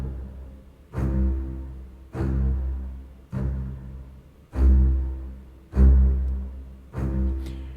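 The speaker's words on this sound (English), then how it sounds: "I took the bass and staccato," Muted, plucky staccato bass line in tense Lego video game style music, sounding as short repeated notes with a decaying thump about every second, played alone.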